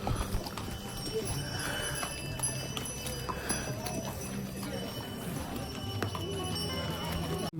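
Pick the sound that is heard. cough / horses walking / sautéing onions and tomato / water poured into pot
horses walking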